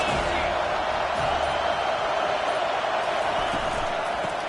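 A football stadium crowd roars in a dense, steady wall of cheering noise that holds level throughout, loud and continuous with no clear breaks.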